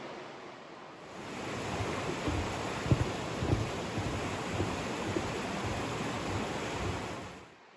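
A creek flows beside a hiking trail on the Big Sur coast, a steady broadband rush of water that swells in after a quiet start, with a few soft knocks and no voices.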